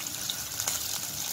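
Onions frying in a pan on a medium flame for chicken chilli gravy, a steady close hiss of frying and sizzling that holds throughout.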